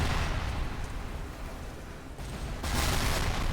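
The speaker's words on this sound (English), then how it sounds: "The explosion noise is insane." Explosions in the video game Bioshock 2 Remastered: rumbling, booming blasts with a loud burst opening, a brief dip, then another heavy eruption near the end, all dense and low-heavy without talk.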